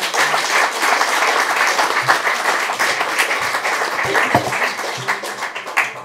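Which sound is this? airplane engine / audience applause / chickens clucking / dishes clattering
audience applause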